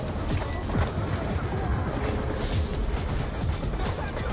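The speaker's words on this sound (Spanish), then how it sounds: "¡Con los disparos!" Rapid gunfire crackles through a Call of Duty Black Ops 2 campaign mission, dense overlapping bursts and single shots firing continuously, with some faint voices mixed in.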